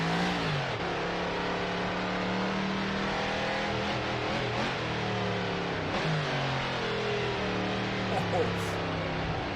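A 1930s prewar race car engine in the Assetto Corsa racing game drones steadily and loudly throughout, its pitch rising and falling with revs, while someone talks over it.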